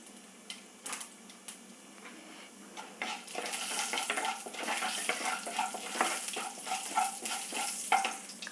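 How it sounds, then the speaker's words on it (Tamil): Mustard seeds frying in hot oil with urad dal and chana dal for a South Indian lunch, faint scattered pops at first building into a busier crackling sizzle, with no talk. "பொரியிறது கூடவே கொஞ்சம் உளுந்து, கொஞ்சமாக கடலைப்பருப்பு,"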